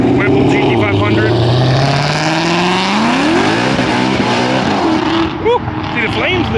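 A Whipple-supercharged 5.0 Camaro revving loudly at close range, engine pitch sweeping down then climbing again through sustained roaring, with people talking and whooping over it.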